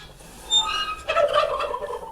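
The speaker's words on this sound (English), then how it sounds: "No, turkeys." Several farm turkeys gobble in a burst of rapid, warbling calls, one loud close gobble followed by a longer rolling series, among goats on a farm with a rising creek.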